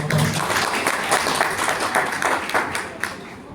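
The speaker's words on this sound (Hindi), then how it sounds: "दोनों ताली बजाकर उनका स्वागत करें।" Audience of advocates clapping in welcome at a swearing-in ceremony of the Advocates' Cooperative Committee at the civil court in Agra, a dense, steady round of applause held at even loudness throughout, fading slightly at the end.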